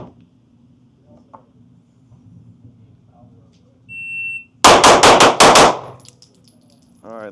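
Staccato C4X pistol fired in a fast string of about five sharp, loud shots close together, two rounds per target, after a quiet lead-in with a brief electronic beep from a shot timer.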